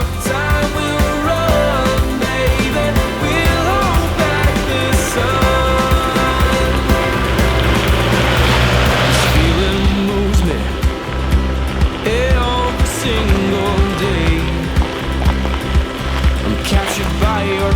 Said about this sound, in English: Driving these gravel Forest Service roads is quite the experience